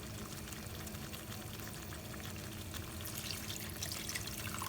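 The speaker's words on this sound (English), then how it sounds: "we are gonna put half a cup of water for the potatoes to cook in it" Water pours into a pot of simmering potatoes and peas on the stove, a steady close splashing and bubbling wash that builds slightly toward the end, with no talk.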